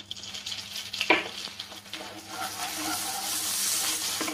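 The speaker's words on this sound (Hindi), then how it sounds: "अब इसमें हम जो प्याज रखते हैं इसको डालेंगे। प्याज को हम गोल्डन ब्राउन करेंगे" Onions fry in hot oil for a besan vegetable dish of sanai flowers, heading toward golden brown. A sharp splash as they hit the oil builds into a steady bright sizzle that grows louder, with no talk.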